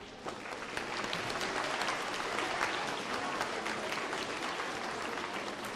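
An audience at a school awards assembly gives a dense, steady round of applause for several seconds, many hands clapping at once in a large room.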